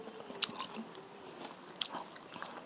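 Someone takes crisp bites of food, giving two sharp crunches followed by softer chewing, close and quiet with no talking.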